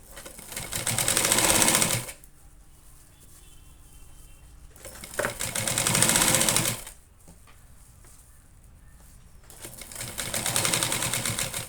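A sewing machine stitches lace onto a cloth bag in three loud bursts of rapid rattling, separated by quiet pauses with faint handling sounds.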